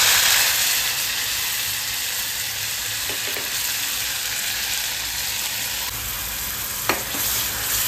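Ground masala paste (vatan) frying in hot oil makes a loud, steady sizzle throughout, with a few soft utensil taps partway through.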